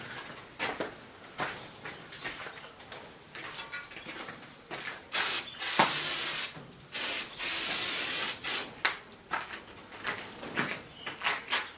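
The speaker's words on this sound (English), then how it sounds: "I ran out of it, so I'm just going to use brake cleaner." Brake cleaner is sprayed from an aerosol can in a run of sharp hissing bursts, several short and a few held for a second or more, close and fairly loud with no talking.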